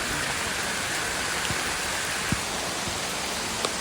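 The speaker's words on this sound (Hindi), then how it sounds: "अब तो जोर से बारिश हो गया।" Heavy rain pours steadily outdoors, making a dense, even hiss with occasional sharper drips and splashes close by, and no voices are heard.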